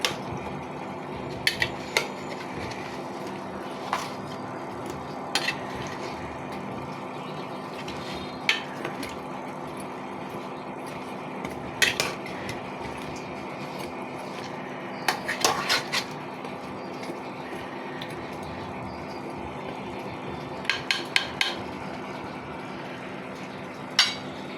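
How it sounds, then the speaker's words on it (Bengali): A spoon stirs pumpkin curry with added chili powder in a pan, spaced metallic scrapes and clinks over a steady low hiss, occasional clusters of quick taps, with no talking. "মরিচের গুঁড়ো অ্যাড করে দিলাম, নাড়াচাড়া করে দিব।"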